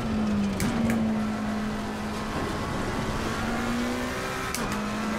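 McLaren race car in the Assetto Corsa Competizione sim, its engine holding a steady drone with a couple of quick gear-shift blips near the start and end, loud and continuous with no talking.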